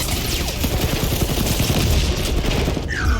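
Rapid gunfire and sniper shots in the Guardians of the Galaxy video game, a dense continuous barrage of loud shots and booms filling the whole stretch, with no voices over it.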